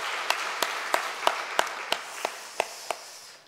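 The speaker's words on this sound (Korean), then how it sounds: "우리 박수로 한번 축복해 줬으면 좋겠어요" A church congregation claps in slow unison during a prayer service, nine or ten evenly spaced claps over a soft room wash, moderately distant and fairly quiet.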